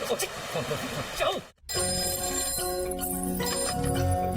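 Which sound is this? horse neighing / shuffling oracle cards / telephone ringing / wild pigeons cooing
telephone ringing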